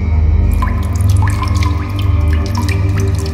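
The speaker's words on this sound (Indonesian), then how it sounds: "Di situ udah kedengeran dari jauh tuh bunyi gemericik air gitu." Water trickles and drips at a mountain spring beside a hiking trail rest stop, a close, steady gurgle with irregular drops over a low background rumble.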